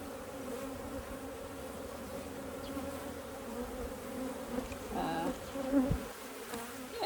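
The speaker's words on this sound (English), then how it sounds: "Very healthy hive of bees." Bees in a healthy hive during an open inspection with honey and drone brood, a steady soft buzzing drone filling the whole stretch, close and even, with no talk.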